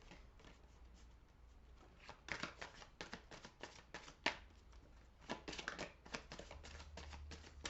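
Tarot cards are shuffled for a thirteen-card spread: quiet, close riffling and flicking in rapid irregular bursts, denser in the middle and toward the end, with no voice.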